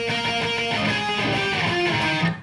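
An electric guitar plays a short octave riff from a song, with distorted, sustained paired notes stepping through a few changes, loud and close, with no talking.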